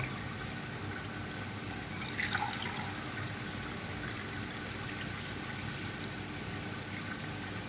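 Water is poured from glasses into a cooking pot for chicken pulao, a steady splashing trickle with a brief louder gush, under a constant background hiss.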